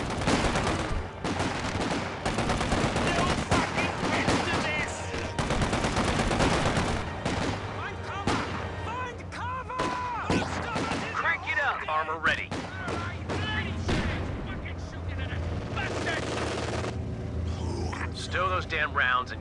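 Machine gun fire in a Company of Heroes 2 American skirmish battle, a loud and continuous barrage of rapid bursts and heavy explosions layered over one another, with voices mixed into the din.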